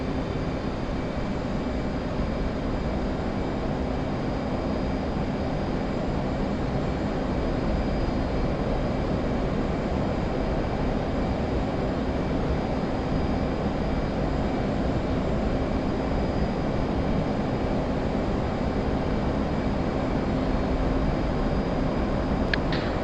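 Steady jet engine roar from an F/A-18 in the DCS flight simulator, a broad continuous rumble holding at an even, loud level with no voices over it.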